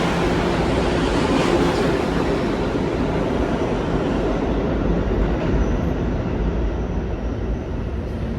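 A new New York subway train rumbles steadily close by as it arrives, broadband roar with faint metallic squeal, continuous and loud for several seconds with no voices.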